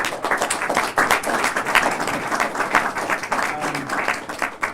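A studio audience gives a sustained round of applause for three panelists at a 2014 veterans' mental health policy panel, with dense, steady clapping that fills the room throughout.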